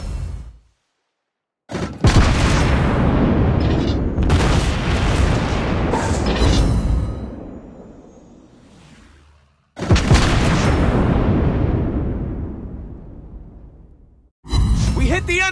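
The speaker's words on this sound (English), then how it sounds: "Good target shot. Hit!" Heavy naval gun salvos and shell impacts from a French tier 6 cruiser, La Galissonniere, in World of Warships Blitz: loud, close booming blasts that rumble and fade in long bursts, separated by brief silences.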